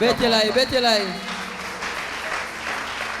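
A church congregation at a Sunday service breaks into steady applause just after a brief spoken call, and the clapping continues evenly at a moderate distance until the end.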